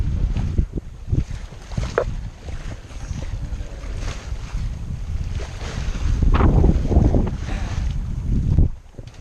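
A cruising sailboat beats into the southerly monsoon wind off western Borneo, with loud buffeting wind, splashing waves and hull noise surging throughout, gusting stronger near the end before dropping away.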